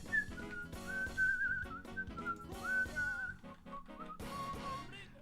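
A person whistles a lively, bird-like melody with sliding and warbling notes, close and clear over soft background music, with no talking.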